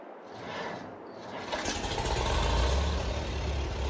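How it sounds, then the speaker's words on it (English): An old tractor engine in Farming Simulator 22 cranks and catches after a brief silence, then swells into a steady, loud rumble that holds through the rest of the clip. "Go on then, Dusty, tick her over,"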